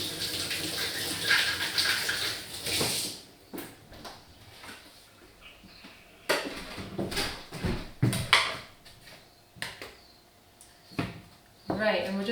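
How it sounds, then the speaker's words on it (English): A tap runs as an apple is washed in a kitchen, with bursts of splashing water and handling noises between quieter gaps, alongside someone talking. "so I'm going to wash an apple"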